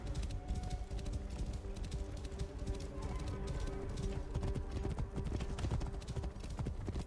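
A horse's hooves clip-clop at a steady trot in the game Assassin's Creed Origins, continuous and rhythmic over a soft game ambience.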